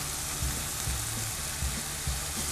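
Garlic frying in a pan with ground pork, broad steady sizzle with soft stirring bumps at close range, no talk.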